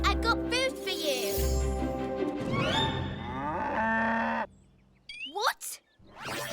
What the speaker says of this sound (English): How do you moo?